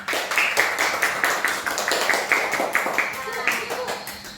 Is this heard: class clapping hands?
yes